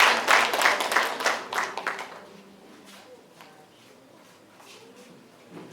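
Audience at a wedding ceremony claps in a loud burst of applause that fades within about two seconds into a quiet murmur, with a brief flutter of clapping returning at the end.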